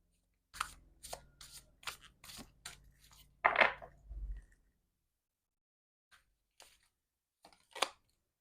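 Oracle cards are handled and pulled in a quick run of close papery flicks and riffles, followed by a soft rustle, a pause, and a few scattered shuffling rubs, with no talking.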